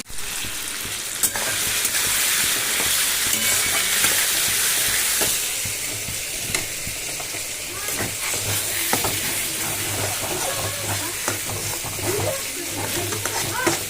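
Green peas being stir-fried in a kadai with a fennel-seed tempering: a loud, continuous sizzle and hiss with repeated scraping stirs, and faint voices in the background.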